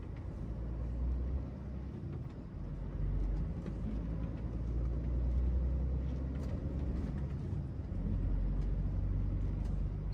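An HGV truck rolls across a bumpy mini roundabout, a steady deep engine and road rumble with faint knocks and rattles from the cab, continuous and fairly close.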